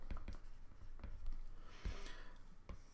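Pen writing on paper, faint close scratching strokes in short irregular bursts over about three seconds, quiet and alone.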